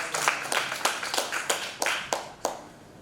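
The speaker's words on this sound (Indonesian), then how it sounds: "Berikan tepuk tangan dulu." A church congregation claps during an online worship service, about ten distinct, fairly loud claps in a loose, uneven rhythm, with no talking over them.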